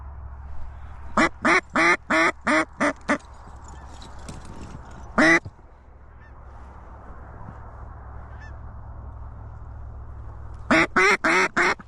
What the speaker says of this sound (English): Ducks are coming.